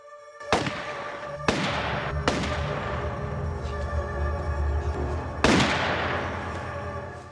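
Several loud gunshots ring out in a film scene, three spaced blasts followed by a fourth nearby, each a sharp crack with a long echoing decay over a steady rumbling background.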